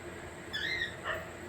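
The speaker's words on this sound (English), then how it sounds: "Who's doing all that barking?" A dog gives two short, high whimpering yips close by, each only a fraction of a second long, over a quiet background.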